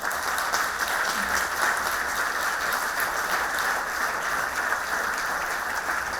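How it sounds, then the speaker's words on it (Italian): Sustained applause from a hall audience at a formal event, steady and dense clapping throughout with no pauses, fairly loud and close, with no one speaking over it. "Momento storico insieme a Gico Simoni con l'applauso della sala."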